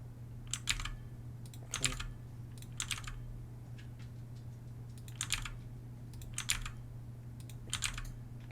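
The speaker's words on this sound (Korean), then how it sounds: "이렇게 해서 계속 키보드를 두드려 주면 됩니다" Someone types on a computer keyboard, with short bursts of key clicks recurring roughly every second over a steady low hum, close and moderately soft with no talking.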